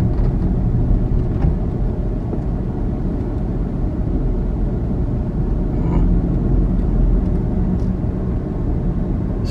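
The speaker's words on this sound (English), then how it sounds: "Driving around a residential neighborhood." A car drives through a residential neighborhood in Progreso along the Texas–Mexico border. A steady, loud low rumble of engine and road noise continues from start to finish with no talk.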